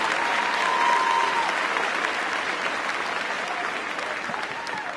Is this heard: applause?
yes